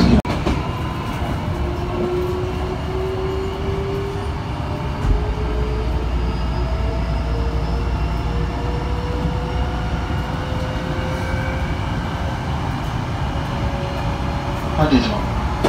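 Hankyu limited express train running, a steady loud interior rumble of wheels on rails with rising motor whine and faint rhythmic clatter throughout.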